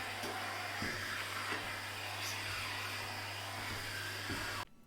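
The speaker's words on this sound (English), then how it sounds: "it's time for a small cleanup with a vacuum cleaner" Vacuum cleaner running inside a bus being converted to an RV, a faint steady motor hum with a low whine and airy hiss, a few soft knocks as the nozzle moves, cutting off at the very end.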